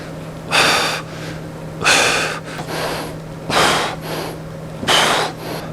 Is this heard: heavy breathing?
yes